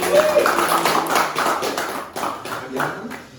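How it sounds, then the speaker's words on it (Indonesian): A small group claps for Pak Jahid, a brisk burst of hand claps that thins and fades over a few seconds, with voices chatting underneath. "Kasih tepuk tangan sekali lagi untuk Pak Jahid"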